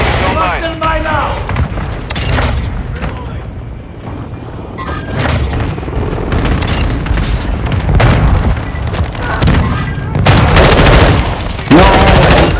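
Airstrike explosions and rapid gunfire in a first-person shooter, repeated heavy booms layered with automatic weapon bursts, loud and continuous across the whole stretch, with a voice speaking at moments.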